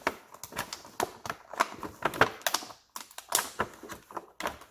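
Elastic liners being snipped and cut out of the packaging of an Emperor Palpatine action figure with throne, a fast close sequence of sharp clicks and snips with brief pauses.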